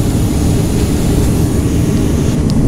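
Engines of a Soviet Yak-40 airliner heard from inside the cabin in flight: a loud, steady, broadband roar with a deep rumble, continuous and unchanging throughout, with no voices.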